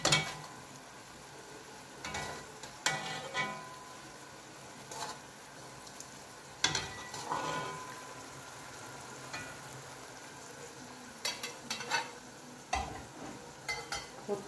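Soft, steady sizzling of red bell peppers frying in a pan, with scattered clinks and scrapes of stirring, fairly quiet and without voices.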